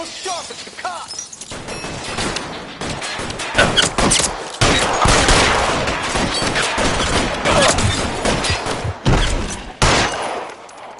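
A chaotic gunfight in L.A. Noire: a dense fusillade of loud gunshots, glass shattering and impacts crack in quick irregular bursts across several seconds, with occasional voices shouting between volleys.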